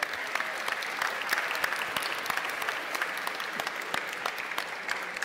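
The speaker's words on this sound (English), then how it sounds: "Give a round of applause for the gentleman." Audience applause at a comic convention, a dense steady patter of many hands clapping from a crowd, sustained throughout.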